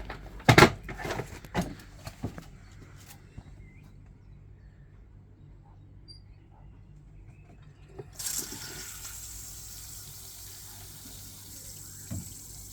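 Water squirting from a free pressure washer's pump during a test run: a few loud knocks and clatters early, a quiet stretch, then a hissing spray of water that continues steadily to the end.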